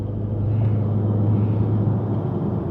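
Deep, steady rumble of a Dodge Charger RT Scat Pack muscle car under light throttle, a loud, continuous low drone heard from inside without any talking.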